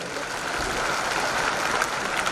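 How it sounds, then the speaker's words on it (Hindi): Steady, dense applause from an audience at an Amway diamond success celebration, continuous clapping that fills the space without pause. "जोरदार ताली बजा सकते हैं उन सबके लिए"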